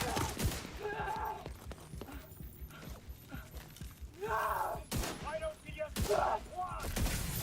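Blind-fire gunshots in a shooter video game, several sharp bursts of shots with clattering impacts, with a voice talking intermittently between them.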